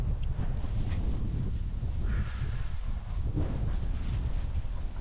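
Wind blowing outdoors, a loud steady rumbling roar buffeting the microphone for the whole stretch, with only slight rises and dips and no voices over it.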